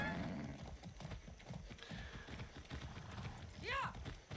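Horse hooves clip-clopping at a steady walking rhythm in Far Cry 6, rather faint, with a short horse whinny near the end and some voice nearby.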